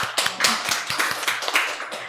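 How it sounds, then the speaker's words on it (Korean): A church youth congregation breaks into applause at a Sunday worship service, a dense patter of many hands clapping continuously at close range for a couple of seconds, with no talking over it. "주원이에게 모두 감사의 박수 부탁드립니다"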